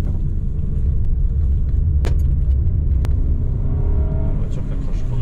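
A Toyota RAV4 drives over snow with a steady low rumble from the drivetrain and gearbox, marked by a couple of brief sharp clicks and a faint whine rising late in the run.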